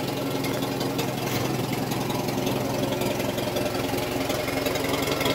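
An International 424 tractor engine idles steadily while warming up, a continuous low rhythmic chugging with a slight knock, loud and close throughout with no talking.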